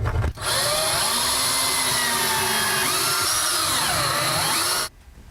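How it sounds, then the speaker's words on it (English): A power drill boring pilot holes through backer board into a wall stud, a loud, close, high-pitched whine running steadily for several seconds with slight pitch dips, starting and stopping abruptly. "I'm going to go ahead and drill just a couple of pilot holes through this backer board into that stud."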